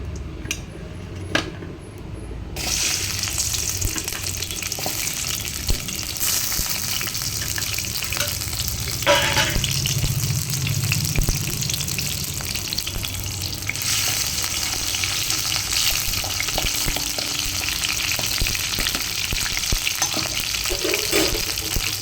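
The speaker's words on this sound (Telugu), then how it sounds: "ఆయిల్ వేడైన తర్వాత మనం ఆనియన్ ఒక్కటి ఉంది కదా, ఆనియన్ వేసేసుకొని అంటే లైట్గా ఫ్రై చేసుకున్న తర్వాత మొత్తం చికెన్ వేసేసుకుందాం" Chicken and onion fry in hot oil in a pan, a loud, continuous close sizzle with crackles and stirring scrapes that holds steady throughout, with no one speaking.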